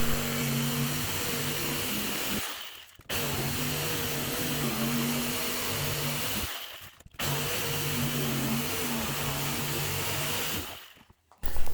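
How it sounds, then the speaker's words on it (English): A jigsaw cuts eye and mouth shapes in a wooden jack-o'-lantern box panel, a loud close buzzing whine in three long runs separated by short pauses, with no talk. "Grab your jigsaw, cut out the eyes and the mouth."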